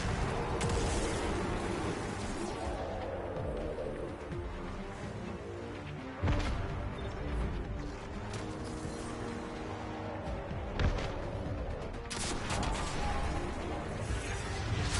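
Rocket fire and explosions in the Destiny 2 game, a dense and loud stream of blasts and impacts with a few sharper bangs standing out over continuous combat noise.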